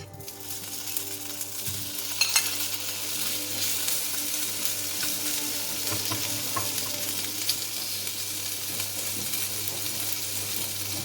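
Shredded seitan made from washed flour fries in a pan with a soft, continuous sizzle and a few light stirring clicks over a quiet, steady background.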